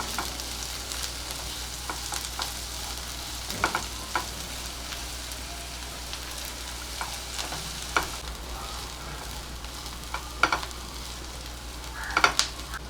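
Chopped onion frying in a pan until reddish, a steady close sizzle with intermittent scrapes and taps of a spatula throughout.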